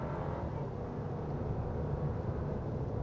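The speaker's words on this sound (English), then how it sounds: "this intrusive noise coming from the engine" Steady low engine drone from a 2024 Chevrolet Traverse LT accelerating while merging onto a Florida road, a continuous dense rumble with road noise and no talking.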